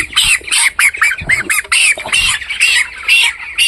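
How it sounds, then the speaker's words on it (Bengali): Chickens on a poultry farm squawk loudly and repeatedly while one is being caught, a near, almost continuous run of harsh, high-pitched cries with only brief gaps. "এই মুরগিটা ধরবো"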